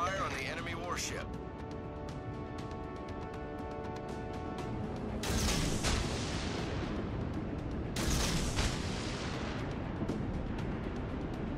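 Naval guns fire in the warship game World of Warships: Legends, with destroyer Jervis in play: two heavy booming salvos roll out over a tonal engine drone, and an in-game voice calls out orders between them.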